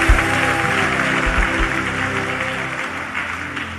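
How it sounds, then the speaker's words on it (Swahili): Church congregation clapping for Jesus at a prayer service, a loud, dense applause that stays steady throughout with no voices over it. "Situmpe Yesu makofi mazuri."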